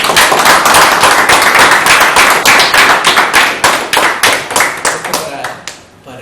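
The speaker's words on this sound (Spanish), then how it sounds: "¿Nos merecemos un aplauso?" A small workshop audience claps steadily for several seconds, loud and near, the clapping thinning out and fading at the end.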